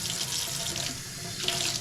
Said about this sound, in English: I just kind of rinse out.